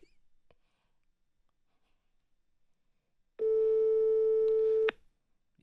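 Telephone busy signal on a call, a single steady loud tone lasting about a second and a half after near silence, ending abruptly.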